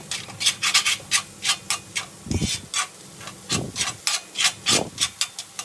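Coconut and egg being mixed into an asparagus stir-fry, a spoon scraping and rubbing rhythmically against the pan in quick repeated strokes, close and clear, with a few heavier thumps.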